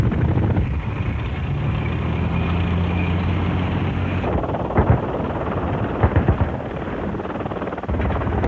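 A loud, continuous engine roar with a throbbing drone of helicopters passing overhead toward a beach and airfield, shifting midway into rumbling thuds and a rough mechanical din.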